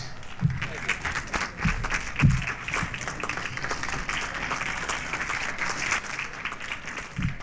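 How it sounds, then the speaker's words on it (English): Applause for comedian Redd Foxx at a 1971 live comedy recording: sustained dense clapping from the audience fills the whole stretch at a steady level, with a few louder swells and no speech. "Thank you if you applauded"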